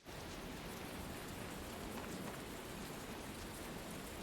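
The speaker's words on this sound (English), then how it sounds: "A sudden downpour." Sudden heavy rain pours down in the video game Tales of Berseria, a steady dense hiss of drops on surfaces that starts abruptly and holds loud and even throughout, with no voices.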